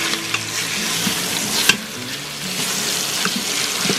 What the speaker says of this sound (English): And we're going to add in this steak.